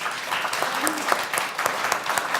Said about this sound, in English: if you'd all join with me to give Casandra another round of applause